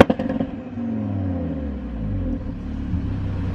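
An RS3 car engine runs at 3500 rpm in a steady, low rumbling drone with slight fluctuations, heard close up without talking.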